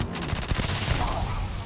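Gunfire in the video game Starfield, fired at the player through windows, a rapid burst of loud shots close together over a low rumble, with no voices.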